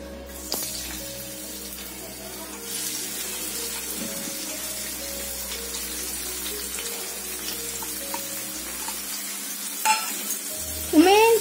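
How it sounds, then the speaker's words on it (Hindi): Peas, finely chopped onion and finely chopped tomato go into hot oil, setting off a steady, close sizzle and frying hiss, with stirring clatter and a few sharper knocks near the end. "ऑयल जो है हमारा वो गरम हो गया है, तो हम यहाँ पे डालेंगे मटर, बारीक कटी हुई प्याज और बारीक कटा हुआ टमाटर"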